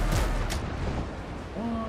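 Cannon fire in the pirate survival game Windrose: a couple of heavy booming blasts near the start, followed by rumbling in-game ambience and a voice speaking near the end.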